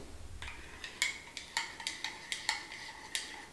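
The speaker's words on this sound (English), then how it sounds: "Let me get a different little spoon to mix it." Small spoon stirring cold-brew coffee in a glass, a run of faint, evenly spaced light clinks of metal against glass in a quiet room.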